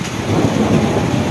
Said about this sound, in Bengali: এবং শুনছেন মেঘের ডাক।